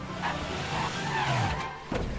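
Homer's car from The Simpsons driving in LEGO Dimensions, a continuous engine drone with a rising, whining pitch and a sharp tire scrape near the end, heard alone without talk.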